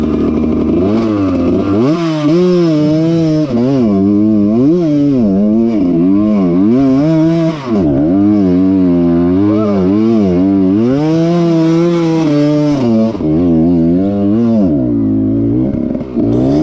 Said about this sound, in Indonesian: dengar suara motornya katanya bagus, ngeri